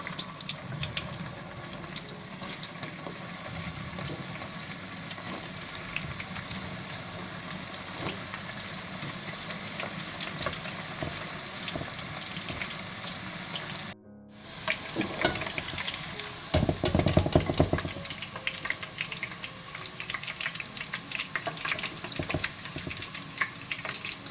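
Okra frying in a pan, a dense, steady sizzle close by with occasional scrapes and light clatter, broken by a brief gap partway through, then louder hissing bursts as frying resumes, no voices.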